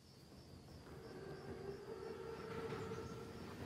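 Low rumbling and rolling rail noise from a Panzerzug armored train in the Call of Duty WWII video game, a steady distant roar with a faint whistle-like tone, building slightly and heard alone.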